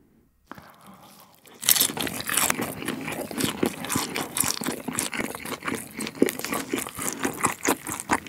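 Crunchy fried pepper chicken from a Korean chicken shop being bitten and chewed up close, with repeated crisp crunches and crinkling after a quiet start, no talking.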